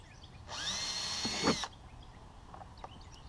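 A power drill bores into a handmade trapping basket in a single steady whine lasting about a second, with a brief higher strain near the end, then quiet.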